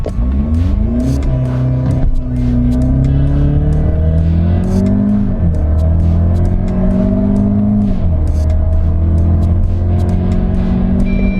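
A 2025 Audi Q3 with a 7-speed automatic accelerating hard toward 100 km/h, its engine note climbing steadily in pitch, dropping at each upshift, then rising again, loud and continuous from inside the cabin.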